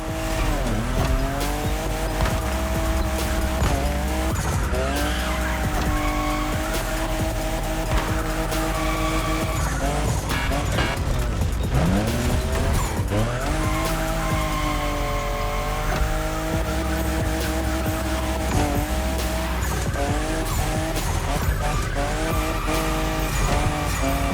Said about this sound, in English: I'm just in love with what Toyota did with this new Supra, the 5th generation of a myth.